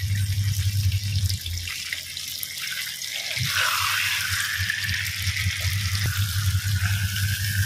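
Fish coated with turmeric and salt fries in a hot pan, giving a loud, continuous close sizzle and hiss with a low hum beneath and a few brief pops.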